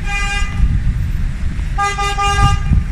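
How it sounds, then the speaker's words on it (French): Car horns honk repeatedly in a busy street, one long blare followed by several shorter overlapping toots, loud over steady traffic rumble. "Pourquoi les gens klaxonnent comme ça?"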